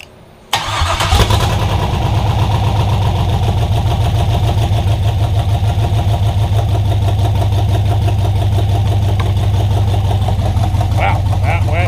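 A V8 engine in a Datsun 720 truck cranks and fires for the first time, catching almost instantly, then settles into a loud, steady, throbbing idle that carries on to the end.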